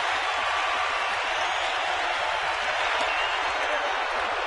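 A baseball stadium crowd roars and applauds steadily during a tense full-count at-bat in a San Francisco home game, a dense, broad wash of cheering that holds at high volume throughout.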